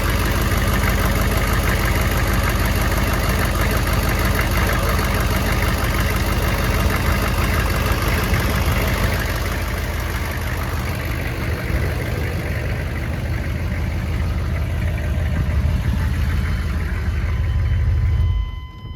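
A GMC K2500 truck with a 6.5 diesel engine idles close by, a loud, steady, rough diesel clatter that holds evenly throughout, with no talking.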